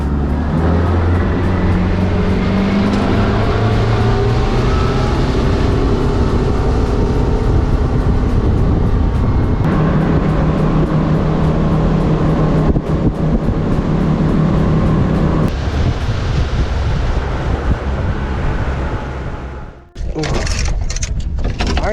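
A small fishing boat motor drones steadily and loudly across a pond, running continuously before cutting out near the end with a brief rattle.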